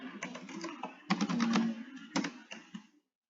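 Computer keyboard keys clatter in short bursts and single taps, with heavier strokes that suggest the Enter key. The typing is close and fairly quiet, then stops into silence.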